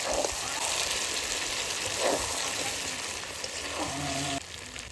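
Duck and chicken meat sizzling in hot oil, a steady crackling hiss throughout with occasional stirring clatter, close and moderately loud.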